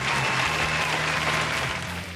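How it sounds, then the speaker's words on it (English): Steady, dense applause for new Patreon supporters on a chat show about models, a continuous wash of clapping with no speech, holding level for about two seconds and easing slightly at the end. "A round of applause for our new Patreon supporters"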